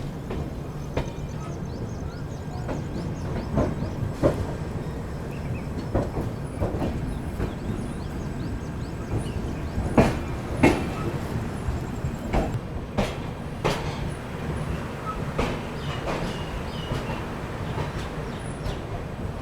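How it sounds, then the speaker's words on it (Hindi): The 22461 Shri Shakti AC SF Express pulls into Shaheed Captain Tushar Mahajan Udhampur station, a steady low rumble of rolling coaches with repeated sharp wheel clacks and squeals throughout, close by and continuous. "ट्रेन अपनी पहुंच रही है शहीद कप्तान तुषार महाजन उधमपुर में"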